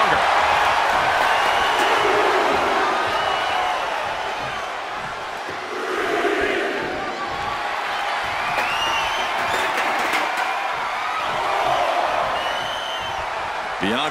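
A virtual arena crowd roars and cheers throughout a WWE 2K24 wrestling match between Bianca Belair and Dakota Kai, a loud continuous wash of crowd noise that swells and dips, with commentary voices talking over it.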